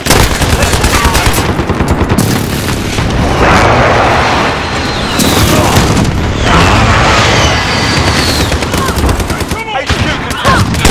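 Repeated heavy explosions from a precision airstrike in the online shooter Call of Duty: Modern Warfare, during a Headquarters match, loud and continuous with dense booms and crackling gunfire layered over roughly eleven seconds.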